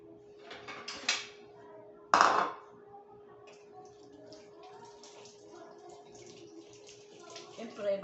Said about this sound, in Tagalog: huhugasan na po natin itong ating mga kamatis, sibuyas, at saka bawang